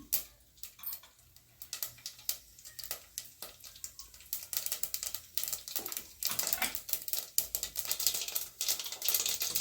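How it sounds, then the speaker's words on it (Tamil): Mustard seeds splutter and pop in hot oil with dried red chillies in a pan while tempering for Chettinad-style sambar rice, giving rapid irregular crackles and ticks that grow denser and louder toward the end. "கடுகு நல்லா பொரியட்டும்."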